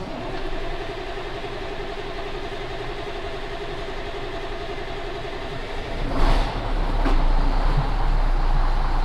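Diesel engine on a farm machine at corn harvest catching after cranking, a steady low idling drone that surges louder around the sixth second and then holds at a higher, rougher running level.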